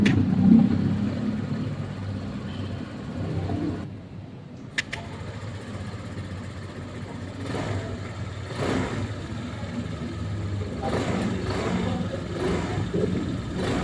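Mitsukoshi Samurai 155i motorcycle with a 4-stroke, liquid-cooled engine, starting with a brief click and then idling in a steady low rumble with mild revving, moderately loud and close.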